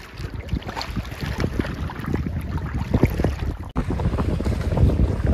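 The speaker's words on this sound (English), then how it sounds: "it's windy. The wind really picked up." Strong wind roars steadily across the microphone at a lake during a canoe trip, loud and continuous, with a brief dip near the end before the rush resumes.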